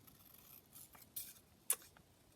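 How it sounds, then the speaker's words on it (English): Scissors snip out small paper portraits for faux postage stamps, giving faint, close snips and rustling paper, with two sharper cuts standing out in a quiet room. "I'm just going to cut these little portraits out"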